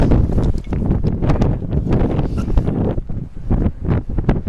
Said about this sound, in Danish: Jeg tror ikke, man kommer til at høre det så meget, fordi det blæser rimelig godt.